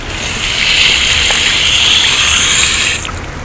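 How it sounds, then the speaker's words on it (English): Water rushes steadily over a fish-cleaning work area, a loud, close, continuous hiss and splash that eases off near the end. "So I'm going to rinse off the work area."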